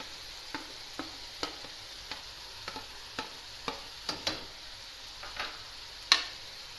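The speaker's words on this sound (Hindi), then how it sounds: "इसको हिलाते हैं ज़रा।" Chicken with capsicum, carrot and cabbage frying in a pan, with a soft sizzle beneath a dozen or so distinct scraping stirs spaced about half a second apart, ending in one louder clatter.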